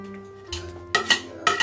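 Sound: putting butter into a saucepan for flapjacks

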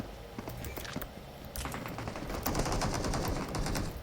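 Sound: gunfire in a video game

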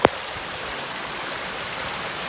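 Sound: floodwater stream rushing through a park

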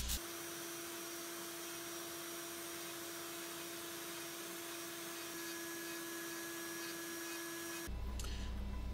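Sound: power carving tool sanding a wooden chickadee carving

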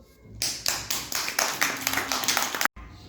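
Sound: applause

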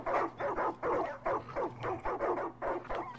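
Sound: dogs barking and whining in the video game Far Cry 5

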